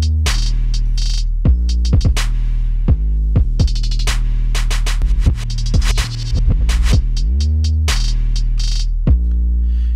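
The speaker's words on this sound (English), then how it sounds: "So when you listen to my drum track after I've enabled this plugin, it sounds like this." A hip-hop drum track built in PreSonus Studio One and run through a GVST drum bus plugin: loud booming 808-style bass hits with sharp transients and a pitch-bending slide, in a syncopated pattern, with no talking.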